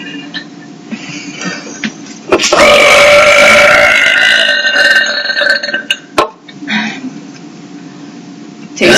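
A girl forces out a long, loud, rumbling burp lasting several seconds, followed by a few shorter burps, during a burp contest among three girls.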